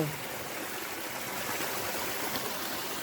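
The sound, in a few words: stream of water flowing in a hillside channel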